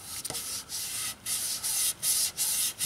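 Hand sanding on the repaired fiberglass-and-resin lower valence of a 1977 Camaro Z28, rhythmic raspy back-and-forth strokes in close, hissy bursts with short pauses between, no voices.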